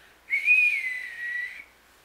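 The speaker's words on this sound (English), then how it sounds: "Can you whistle?" A person whistles one sustained, clear note lasting just over a second, close and alone, with no other sound around it.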